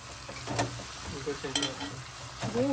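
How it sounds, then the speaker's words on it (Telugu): Chicken leg pieces deep frying in hot oil give a steady close sizzle, with short stirring clatters and a few brief voice-like sounds over it. "నూనెలేమో కొంచెం ఫ్రీగా డీప్ ఫ్రై అవుతుంది"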